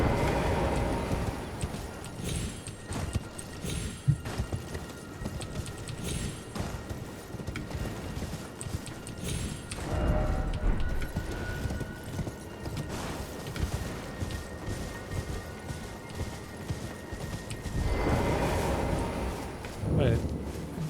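Steady clip-clop of horse hooves in the game Elden Ring runs throughout, loud and close, with a faint creaking layer and a tonal drone in the background.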